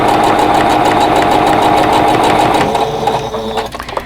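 A sewing machine runs steadily at close range, stitching rows of a quilt block together with a loud, even mechanical whir that slows and sputters to a stop near the end.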